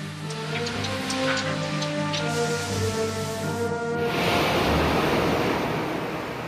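The Italian submarine Barbarigo makes a rapid dive: a steady, droning hum gives way to a loud, continuous rush of surging water that fills the rest of the moment.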